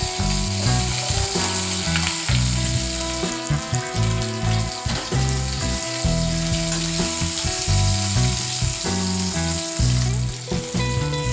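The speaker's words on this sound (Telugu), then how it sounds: "ఇప్పుడు గార్లిక్ అండ్ ఆనియన్స్ కూడా ఫ్రై చేసుకుందాం" Garlic and onions fry in hot oil in a pan alongside mustard seeds, cumin and dried chillies, giving a loud, continuous sizzle and crackle with rhythmic stirring scrapes throughout, without any voices.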